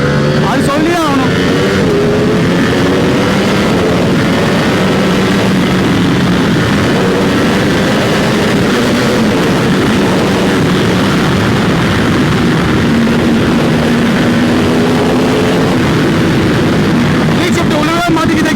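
An inline-four motorcycle fitted with a CS Racing exhaust and a quick shifter revs and pulls through the gears, its engine note rising and falling in repeated sweeps. A rider talks over the loud engine.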